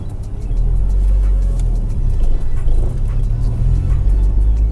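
A Honda CR-Z hybrid car on the move, heard from inside as a steady low road rumble and engine drone with a slight rise in pitch, no voices over it.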